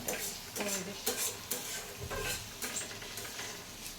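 Squash and green chillies frying in a pan, with repeated stirring scrapes and clinks of utensil against metal over a steady sizzle, close and moderately loud, no talking.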